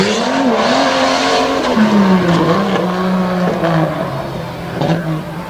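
The Iron Pig truck races in two-wheel drive at a Renegade mud truck event in Abbottstown, Pennsylvania, its engine roaring loud and close with a wavering, straining pitch that sags and recovers under load.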